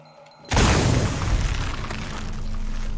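A sudden loud boom bursts out after a brief quiet moment in Shadow of the Tomb Raider, then a heavy rumbling roar lingers and slowly thins out over a few seconds, with no voices.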